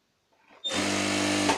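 Sewing machine stitching a petticoat, a steady whirring motor run starting abruptly after a faint lead-in and holding for about a second, close and loud with no voices.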